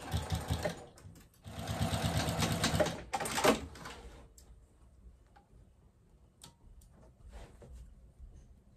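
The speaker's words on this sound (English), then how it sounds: "we just need to go ahead and sew that up at an 1/8 inch seam allowance" A sewing machine runs a short seam on a tote bag in fast rattling bursts, two loud runs of rapid stitching, then quieter clicks and handling noises as the fabric is adjusted.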